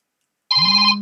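A telephone rings for an incoming call during a casual radio show, a loud steady electronic ringtone with bright stacked tones starting abruptly and holding for about half a second.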